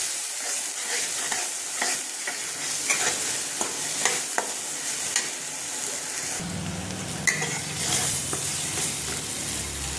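Masala for a roasted bottle gourd curry fries in oil in a pan as it is stirred, with a steady sizzle and scattered scraping clicks. The frying grows louder and denser in the second half.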